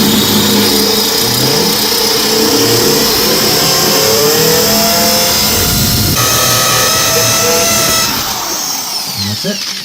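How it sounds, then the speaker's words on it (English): A diamond drill bit with cooling wax bores into tile, a loud whirring drill tone that rises and wavers with grinding rasp, running nearly continuously before easing off near the end. "so let's go and drill a hole from the beginning, and we're going to use the same bit"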